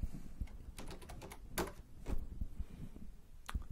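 Typing on a computer keyboard while entering database commands, a quiet run of irregular clicks and taps in uneven bursts, close and faint, with no talking.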